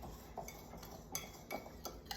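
A utensil stirs crumbly scone dough of flour and whipping cream in a bowl, giving faint, close scrapes and a few light clinks in an irregular rhythm.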